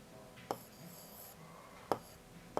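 Chalk or a marker taps and scratches on a classroom board in a few short, sharp strokes, spaced apart over a quiet background.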